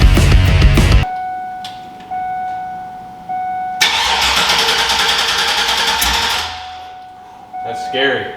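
A monster-truck school bus engine with no exhaust cranks and fires up loudly after a short burst of noise, then settles into a rough, raw idle close by, with a voice near the end.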